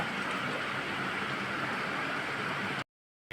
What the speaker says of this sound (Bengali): বৃষ্টিটাও বোধহয় একটু কমেছে